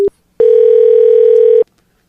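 A telephone call tone plays while dialing a cell phone: a brief beep, a short pause, then one long steady tone over a second long, loud and clean, ending abruptly.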